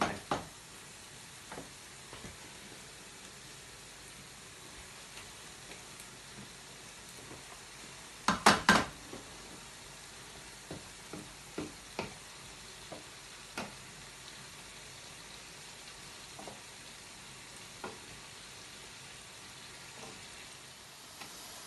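Mushrooms stir in a pan of chilli con carne, sizzling softly and steadily with a cluster of spoon knocks against the pan partway through, then scattered lighter taps. No one speaks.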